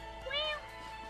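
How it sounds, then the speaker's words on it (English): A cat gives a single short meow, brief and fairly faint, standing alone over a quiet background. "Cat."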